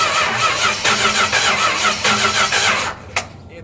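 A car engine cranks with rhythmic starter pulses for nearly three seconds, then goes quiet with a brief sputter near the end, heard up close and loud.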